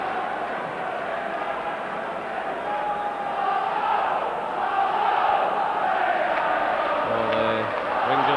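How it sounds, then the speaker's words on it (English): A football stadium crowd at a Rangers versus Club Brugge Champions League match roars continuously to lift the home team, a broad distant swell of cheering and chanting under a commentator's voice. "Crowd trying to lift the team."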